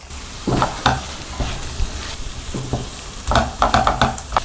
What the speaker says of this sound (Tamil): இது ஒரு 2 நிமிஷம் வரைக்கும் நல்லா வதக்கிக்கலாம்